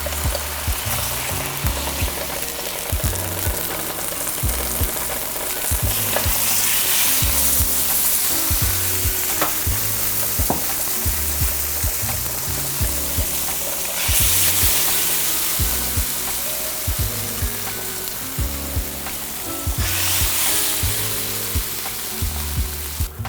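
Mussels and cioppino sauce sizzle and fry steadily in a hot pan for a San Francisco-style seafood stew, a loud continuous crackle with occasional stirring clatter and no talk.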